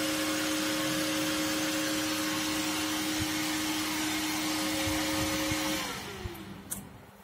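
A small electric fan powered from a phone charger boosted from 5V to higher voltage whirs with a steady tonal hum, then winds down and fades near the end.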